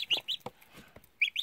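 Several short, high-pitched peeping chirps from goslings come in quick bursts, close by, with small rustling sounds between them.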